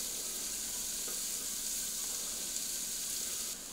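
Carrots, onions and celery sauté in butter in a hot pan, giving a steady, close sizzle that holds evenly throughout with a faint hiss and no talking.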